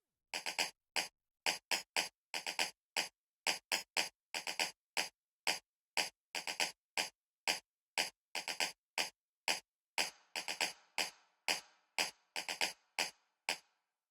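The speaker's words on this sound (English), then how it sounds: "it's more of like a clap sound" A dry, clap-like Afro House percussion sample with reverb repeats in a syncopated groove of short sharp hits, alone and moderately quiet, with the reverb tails growing fuller toward the end.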